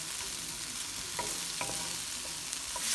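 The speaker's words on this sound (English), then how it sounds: "you just want to heat the tomatoes a little bit" Tomatoes heating in a Le Creuset braiser with a soft continuous sizzle, a few faint scrapes of stirring scattered through, fairly quiet with no voices.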